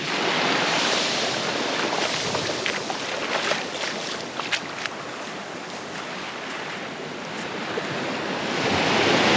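Ocean waves rolling and breaking on the beach at Secrets Resort Huatulco, a loud continuous wash of surf with wind buffeting the microphone and no speech.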